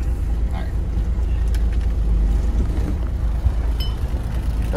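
A truck idles and creeps in reverse toward a hopper bottom trailer, a steady low engine rumble holding throughout at close range with faint rattles above it.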